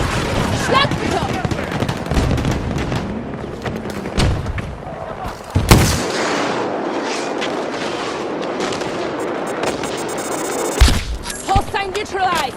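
Explosive missile impacts and booming blasts from a TGM strike in the shooter game Battlefield 2042, Breakthrough mode multiplayer, with loud bursts near 5.5 and 11 seconds amid continuous battlefield gunfire and clatter; a voice talks over the din.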